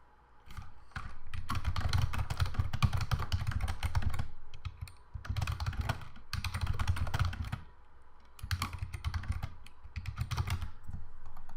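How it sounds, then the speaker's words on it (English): Typing on a computer keyboard in steady, rapid bursts of clicking keys separated by short pauses, close and clear with no voices. "I type a clear description in there"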